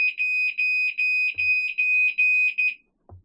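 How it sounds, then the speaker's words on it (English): Raymarine anchor alarm external buzzer on a sailboat sounds in steady paired high-pitched beeps, loud and close, repeating about eight times before stopping, followed by a couple of low thuds. "insist on an external buzzer, because that's the sort of noise you need to wake you up in the middle of the night when your anchor is slipping"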